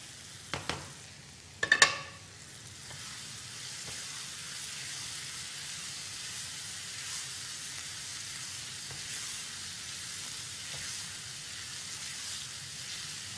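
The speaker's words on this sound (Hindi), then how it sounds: "दाल डाल के इसको अच्छे से भुनेंगे" Boiled mash dal tipped into masala in a pan, a few sharp clanks and scrapes at first, then a quiet steady sizzle and hiss as it fries, with no talk.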